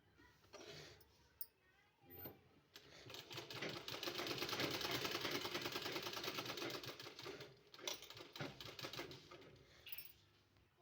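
Sewing machine stitching a design onto a kurti neckline, a faint fast mechanical rattle that builds into a steady run lasting several seconds, with short stops and restarts before and after.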